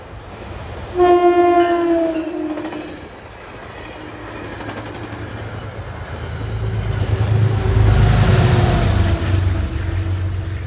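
A Grand Central–bound passenger train hauled by a P32 diesel locomotive sounds a loud, sustained horn, then rumbles past with rising and falling engine and wheel noise, clear and fairly close.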